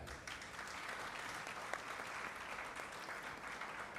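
Conference members applaud together to approve the accounts at a union's triennial meeting, a steady, fairly faint wash of clapping from a crowd that carries through without a break.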